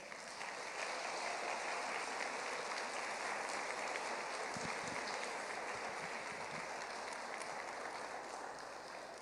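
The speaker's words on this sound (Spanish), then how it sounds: "Dele otro aplauso al Señor." A church congregation applauds in a steady, dense wash of clapping that holds at an even level throughout, sounding like heavy rain, with no break.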